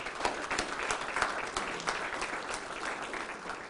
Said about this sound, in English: Let's give Community Foundation a round of applause.